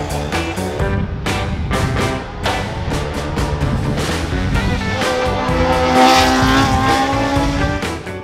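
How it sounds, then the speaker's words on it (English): A Mini Cooper S engine roars at full throttle, loud and close, its pitch climbing and dropping through quick gear changes as it races past at a hill climb. "his foot firmly planted to the floor in his Mini Cooper S"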